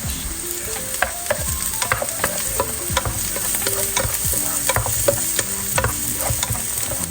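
Six garlic cloves sauté in a pan with a steady sizzle, broken by frequent scraping and clanking strokes of a utensil stirring against the metal, close and continuous throughout.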